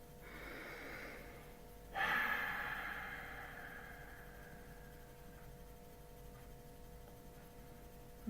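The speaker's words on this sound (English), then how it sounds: "2 more times, exhale." A deep, breathy exhale during a guided breathing exercise swells suddenly and fades slowly over a few seconds, faint and close in a quiet room, with a soft hum underneath.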